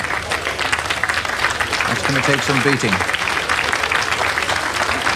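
A crowd applauds steadily after a strongman's rope pull at a 1988 Britain's Strongest Man trial of strength, with dense clapping throughout and a commentator talking over it.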